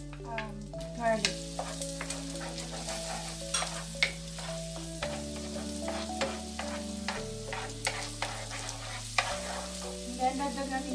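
Garlic sautéing in a pan for creamy carbonara, with a steady sizzle under repeated scraping and stirring clicks, close and moderately loud, with no talking.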